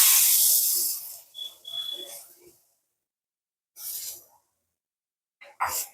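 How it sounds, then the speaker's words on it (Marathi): Cooked toor dal goes into a spluttering tempering of coriander-cumin powder and asafoetida for dal tadka: a loud, close hiss that fades over a second, then softer bubbling and two short sizzling bursts. "फोडणी छान आपली अशी तडतडली ना का ही शिजवून घेतलेली तूर डाळ आपण फोडणीला घालणार आहोत"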